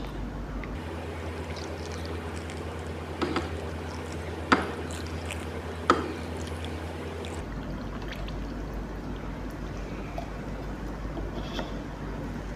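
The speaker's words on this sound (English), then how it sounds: "slowly added this coloring water into this cornstarch" Colored water poured slowly into a bowl of cornstarch for an oobleck experiment, a soft steady trickling stream with a few light taps and clinks, close and alone.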